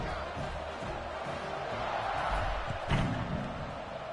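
A football stadium crowd during the second quarter before a kickoff, a broad roaring wash of cheering and shouting that swells slightly toward the end, heard from a distance without a clear voice on top.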